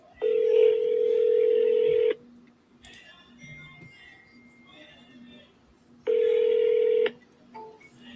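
Two long, loud dialing tones sound at the start and again near the end as a phone places an outgoing call, separated by a stretch of quieter line noise with faint background sound.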